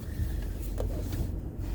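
A car engine idles steadily nearby, a continuous low rumble with no talk.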